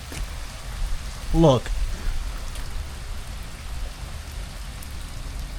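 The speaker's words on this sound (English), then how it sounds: "it is pouring right now" Heavy rain pours steadily outside, a constant broad hiss throughout, and someone briefly speaks over it near the start.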